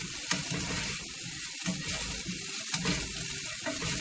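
Garlic sautés in a pan for clam pasta, giving a steady, close sizzle with faint stirring scrapes and no talk.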